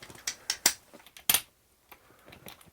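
A fishing-rod stand's direction adjustment clicks through its ratchet, giving a few sharp, close metallic snaps spaced unevenly, then quieter ticks, with no talk.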